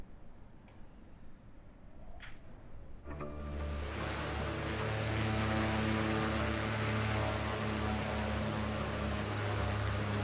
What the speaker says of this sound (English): Trying to relax and fly a push plane.